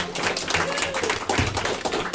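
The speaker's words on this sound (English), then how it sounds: "Round of applause." A small group claps in a short round of applause at a podcast's anniversary celebration, quick patter of hands near the microphone with voices talking over it.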